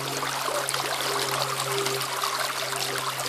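Stream water trickling and being scooped into a container by hand, a steady close babbling flow with a low hum beneath and no talk.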